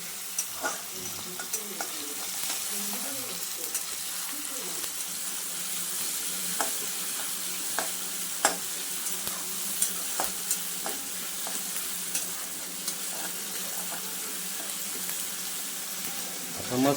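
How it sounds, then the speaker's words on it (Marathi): Chopped tomatoes softening in a frying pan, stirred with a spoon: a low continuous sizzle with scattered scraping clicks and taps throughout, fairly quiet. "आता टमाटर कसं बारीक आणि मऊसूत होईपर्यंत त्याला हलवून घ्यायचं"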